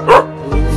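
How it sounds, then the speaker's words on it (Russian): Short dog bark, loud and close, with a second softer bark-like sound following after a brief gap. "Смелая собака."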